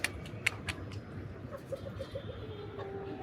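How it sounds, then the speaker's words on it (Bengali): Chickens clucking in short bursts, fairly close, with sharp clicks and rustling around them. "আমাদের সবগুলো মুরগি ছেড়ে দিছি আজকে"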